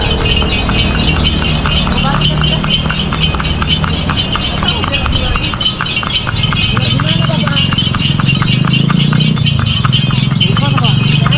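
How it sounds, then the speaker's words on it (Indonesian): Hooves of a horse pulling a delman cart through Bantaeng, South Sulawesi, clip-clop in a steady, even trot, with a voice talking over the continuous ride. "Tidak terasa ternyata sudah hampir 8 menit guys kita naik kuda."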